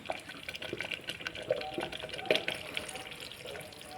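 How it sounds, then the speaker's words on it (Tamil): Water running into a mixer jar as it is rinsed in a home kitchen, splashing and sloshing in uneven bursts, close and fairly soft, with no speech. "மிக்ஸி ஜாரை கழுவி அந்த தண்ணி ஊற்றிக்கோங்க."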